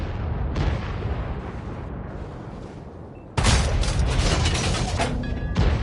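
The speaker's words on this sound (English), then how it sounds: "Talking about the battle sounds we're hearing, the explosions, and these are new sounds we're hearing." Explosions and gunfire in a World of Tanks battle: a steady rumble of distant blasts that jumps to louder, sharper booms partway through, with no talk.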